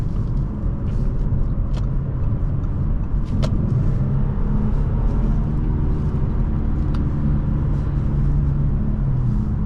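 A 2012 Audi A7 3.0T Quattro drives along with a steady low engine growl and road rumble from inside the cabin, continuous and fairly subdued, with a few faint clicks.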